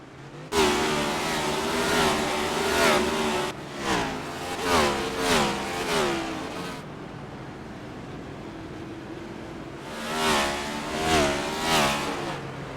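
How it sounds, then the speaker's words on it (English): Race car engines roar at a stock car race in the L.A. Coliseum, loud revving passes rising and falling in pitch as cars accelerate by, with a brief lull before another pack surges past. "It's time to crank it up. Let the cars roar and let them be the ones that soar."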